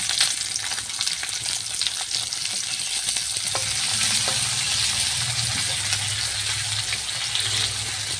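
Chopped onions fry in oil with whole cumin in a kadai, a loud, close, steady sizzle and hiss with a few light stirring knocks, no voices.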